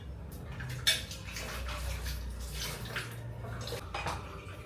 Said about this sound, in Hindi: तो मैं फटाफट से बर्तन धो लेती हूँ।